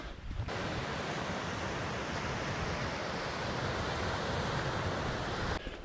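Surf breaks along a wild Baltic beach as a steady, dense roar of waves mixed with wind noise, loud and unbroken throughout.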